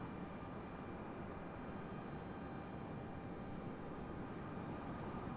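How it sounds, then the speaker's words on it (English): A JetBlue Airbus A220 airliner passes at Raleigh-Durham International Airport, its engine roar a steady, broadband rumble that holds loud and constant throughout, with no talk over it. "our JetBlue A220 headed back to Boston"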